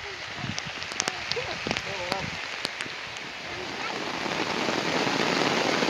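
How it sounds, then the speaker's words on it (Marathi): Heavy rain falls on an open farm field, a broad steady wash that builds louder toward the end, with people talking briefly over it early on. "या साईडने पाऊस आला."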